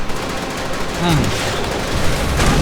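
Gunfire in Call of Duty: World at War, continuous rattling shots through a noisy battlefield mix, with a voice talking over it.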